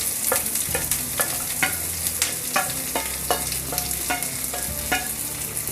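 Roughly chopped onion fries in a pan with garlic and ginger for a kaju makhana curry. A steady, close sizzle continues throughout, broken by regular scraping strokes of stirring.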